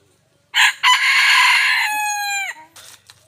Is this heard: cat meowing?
no